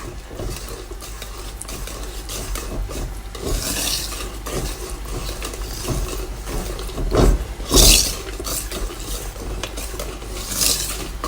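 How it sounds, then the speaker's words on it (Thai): Butter being stirred into pandan custard in a pot, a steady soft scraping and rubbing of the spoon against the pot, with a few louder scrapes, no talking. "คนให้เนยละลายเข้ากันดีค่ะ"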